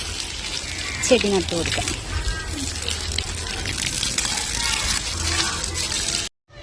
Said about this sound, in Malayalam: നമ്മളുടെ ചെടി നടാനുള്ള സ്ഥലം ഒന്ന് പതുക്കെ ഒന്ന് നനച്ചു കൊടുക്കാം കേട്ടോ.